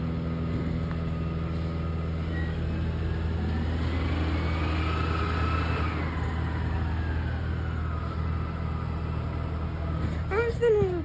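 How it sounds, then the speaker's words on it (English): A garbage truck's engine rumbles steadily and close for the whole stretch, with a short burst of brake hiss and squeal near the end. "I haven't seen this truck in a while."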